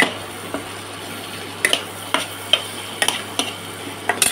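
Parboiled taro and potatoes cook in a pan for a curry, with a soft sizzle beneath a regular series of spatula taps and scrapes against the pan.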